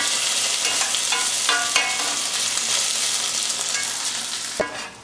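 Potatoes fry and sizzle steadily in a pan for a frittata, with repeated scraping and clinking of a utensil stirring them, and a sharper knock near the end.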